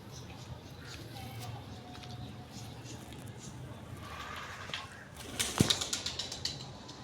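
A pigeon ruffles and beats its wings close by in a short flurry of rapid flaps, while someone talks quietly in the background throughout.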